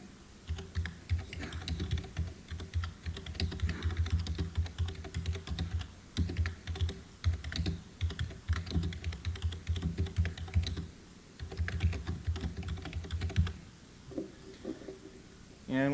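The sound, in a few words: typing a reply on a computer keyboard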